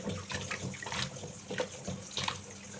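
Tap water runs into a kitchen sink as beans are washed by hand, a continuous close splashing stream with uneven bursts where the flow hits the beans and basin.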